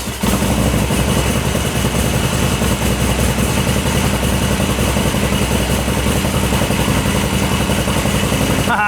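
An old motorcycle engine runs loud and close, a steady rapid idle putter sustained through the whole stretch without a clear start.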